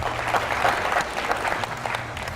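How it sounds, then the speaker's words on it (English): An audience at a university quiz competition gives the contestants a steady round of applause, a dense, even clatter of many hands with little voice over it. "another big round of applause for our contestants"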